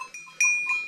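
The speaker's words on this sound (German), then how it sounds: "Und das ist die süße Ziege." Goat on the Galehorn mountain pasture at about 2797 m, giving two short, fairly close bleats with a clear tonal cry, the second one longer and louder.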